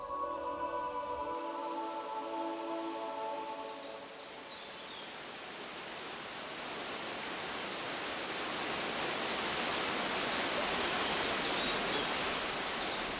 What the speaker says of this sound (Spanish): se llega a la cascada de Triberg, la más alta de Alemania